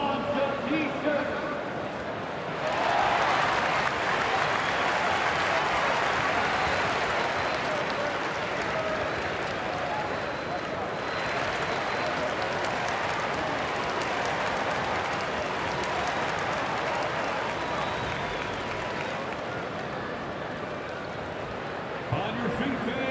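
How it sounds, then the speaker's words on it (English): Simulated arena crowd in a basketball video game cheering through a T-shirt toss break, a sustained loud roar with clapping that rises after a few seconds, dips briefly midway and carries on to the end. "It's T-shirt time, fans. On your feet and make some noise."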